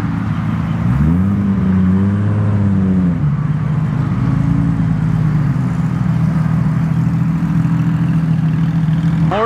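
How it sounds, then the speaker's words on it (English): Sports cars leaving a car show rev their engines: a nearby car blips its throttle in a few rising and falling surges, then settles into a steady rumbling idle with traffic noise around it. "Here comes some cool cars. Got the R8, got the Supra, the GT3 RS,"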